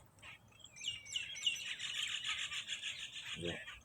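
Small birds chirp and tweet in a steady, busy chorus while being fed flatbread outdoors, with brief rustling and a low thud near the end.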